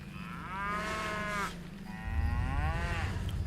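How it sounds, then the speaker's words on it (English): A cow lowing twice in a row, two long drawn-out moos of similar length, clear and fairly close with no voices over them. "Was that a cow?"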